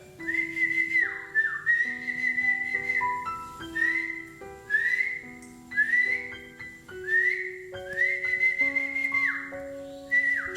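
A person whistles a wavering melody for about ten seconds, phrases rising and sliding in repeated bursts, fairly quiet and close, over faint background hum in an empty house.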